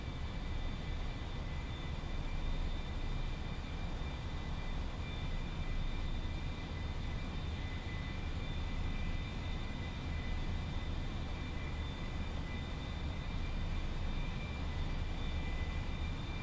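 Steady, even drone of an aircraft engine during landing practice in a scooter aircraft, broadband rumble with faint high whine tones, continuous and unchanging throughout at moderate level.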